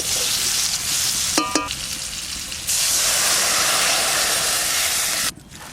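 Potatoes sizzle loudly in a hot pan with salt and turmeric, a steady close hiss broken by a brief clatter of stirring, then swelling again before dropping off at the end.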